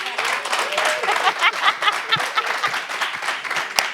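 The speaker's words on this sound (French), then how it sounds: "c'est pour vous-même que vous applaudissez" Audience clapping at a debate event, a moderately loud patter of many hands mixed with voices and some light laughter, with a few sharper claps near the end.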